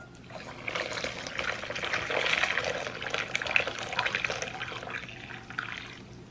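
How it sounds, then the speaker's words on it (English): Hot water poured onto sugar for strawberry lemonade, a continuous close splashing pour that swells in the middle and tapers off, with no talking. "You wanna add your hot water, please be careful."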